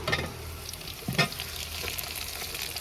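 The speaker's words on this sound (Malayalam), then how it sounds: "നല്ലപോലെ ഒന്ന് ഇളക്കി കൊടുക്കാം" Tomato, green chili and ginger for fish perattu are stirred in a frying pan, with a steady sizzle under a few scraping strokes of the spoon and one sharper clack partway through.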